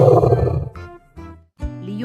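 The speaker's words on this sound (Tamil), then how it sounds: "சில நாட்களில் லியோவின் தொண்டை வலி குணமாகி மீண்டும் பலமாக கர்ஜித்தது" A cartoon lion in a children's animated fable gives a loud, close, throaty roar in several voiced bursts with short pauses between them; it sounds like a performer voicing the roar.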